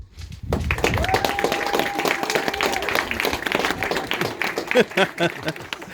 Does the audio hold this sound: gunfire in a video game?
no